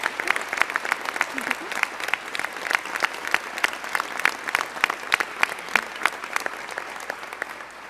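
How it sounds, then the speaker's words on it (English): Crowd clapping and cheering after a government budget announcement on gender equality funding, sustained lively applause with distinct sharp claps throughout and some voices mixed in. "yes, you can cheer to that"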